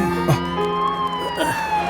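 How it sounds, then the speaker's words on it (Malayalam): An ambulance siren wails with a sweeping, pitched tone, fairly loud and close, over a low background of street noise. "ആംബുലൻസ് വരുന്നുണ്ട്, വന്നോണ്ടിരിക്കുക."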